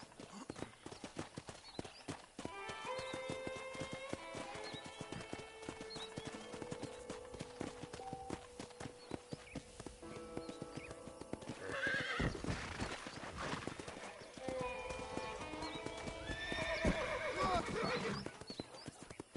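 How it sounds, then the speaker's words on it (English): Rhythmic hoofbeats clip-clop steadily while a horse neighs and whinnies repeatedly in the video game Red Dead Redemption, with a light tune underneath. "let's see if you can still ride a horse"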